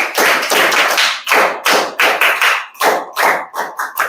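Students doing a Scout Guide clap, a fast group rhythm of sharp, loud claps in patterned bursts and groupings, close and without talk.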